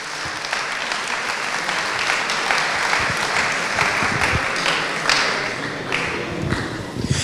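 Applause from the audience at a presidents' evening gala in 2022, sustained dense clapping from a sizable crowd that holds at a steady level and continues without pause.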